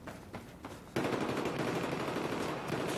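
Gunfire crackles in Battlefield 4, a few scattered shots first, then a sustained rattle of rapid automatic fire that continues steadily at moderate loudness.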